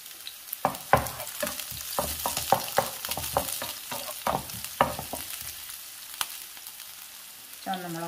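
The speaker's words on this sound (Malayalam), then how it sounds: "കടുക് പൊട്ടി ഇതിലേക്ക് അരിഞ്ഞു വെച്ചിരിക്കുന്ന ചുവന്നുള്ളി വെളുത്തുള്ളിയും ചേർക്കാം" Chopped shallots and garlic go into coconut oil with spluttering mustard seeds for a dal curry, producing a soft sizzle broken by sharp, irregular pops and stirring clinks, with a short voice at the very end.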